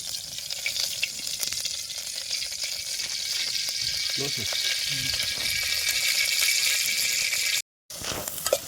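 Loud, close sizzling of a spice tempering in hot oil on a stove, steady throughout, with a few faint clinks and a brief dropout near the end.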